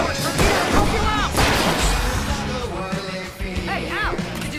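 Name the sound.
fireworks exploding in the video game Alan Wake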